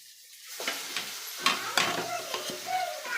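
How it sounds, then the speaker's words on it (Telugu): Marinated chicken for biryani dropping into a hot pan, a close burst of sizzling and frying with scraping and stirring clatter over a few seconds. "ముందుగా కలిపి పెట్టుకున్న చికెన్ని కొద్ది కొద్దిగా వేసుకొని"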